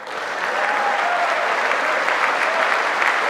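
Sustained audience applause fills a large chamber during a State of the Union address, a dense, even roar of clapping without pause.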